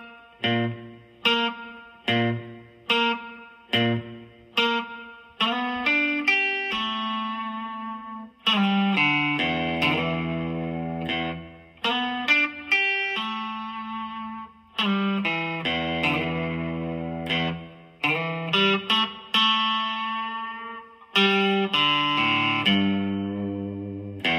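An electric guitar with light distortion plays a riff: short staccato chords at first, then sustained ringing chords and melodic runs, alone and clear.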